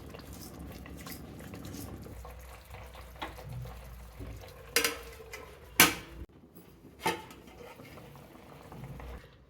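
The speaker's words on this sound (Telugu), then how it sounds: "ఒకసారి ఇట్లా కదిలించుకుందాం." Fish curry bubbling as it simmers in a pot, with soft steady boiling and liquid sounds and a few louder clinks of a spoon stirring against the pot, all close by with no talking.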